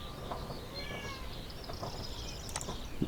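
A cat in a video game meows several times, drawn-out tonal cries rising and falling over a steady game ambience, moderately close and clear.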